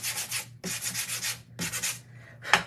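Hand sanding across a painted wooden cutting board, with three rhythmic bursts of gritty scraping strokes separated by short pauses and a brief final rub, close and alone.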